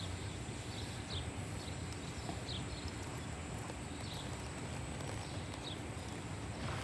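Horse hooves clip-clop in a steady, even walking rhythm over a constant low rumble of background noise, moderately distant and fairly quiet, with no talking.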